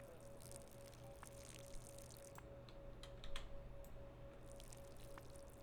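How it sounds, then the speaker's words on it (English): Watering plants with a watering can in the video game Schedule I: soft, quiet pouring and dripping sounds with a few small splashes, heard alone over a faint steady background hum. "And then we take our watering can"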